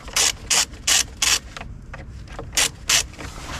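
Ratchet wrench loosening the negative terminal nut on an Opel Astra H car battery: quick bursts of close, crisp clicking, four in a row, then a pause and two more, with no talking.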